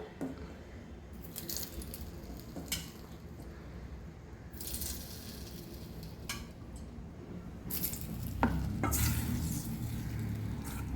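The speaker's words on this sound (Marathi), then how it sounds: "आता ह्याच्यामध्ये आपण दोन चमचे तापलेलं तेल घालणार आहोत मी हे तेल तापत ठेवलं होतं" Hot oil stirred into a coated cauliflower batter for Cauliflower 65, giving a close, steady sizzle with wet squishing and occasional clinks of a spoon against the bowl, growing a little louder toward the end, with no talking.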